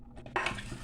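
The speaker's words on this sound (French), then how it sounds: "Et je vais d'abord mélanger." Red cabbage salad with Granny Smith apples and romaine being tossed in a bowl. A quick clatter of utensils against the dish gives one short scraping stir.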